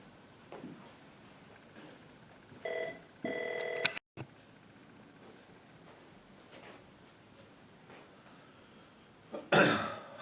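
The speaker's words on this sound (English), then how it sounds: "so my phone rang, I had to go answer it" A telephone rings in a quiet room, with short electronic tone bursts around the middle and a louder burst near the end, separated by near silence and a faint cough.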